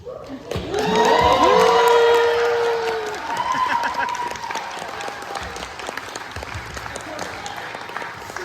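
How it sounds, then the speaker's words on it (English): A convention crowd at a Star Wars Rebels reunion panel bursts into loud applause with whoops and cheers, peaking early and then settling into steady, fading clapping. "you all deserve your own applause"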